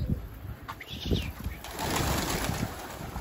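Pigeons take off beside a handler, with bursts of flapping wings and a few soft coos, close by over a rustling outdoor background.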